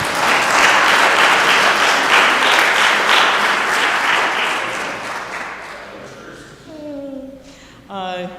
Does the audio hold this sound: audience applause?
yes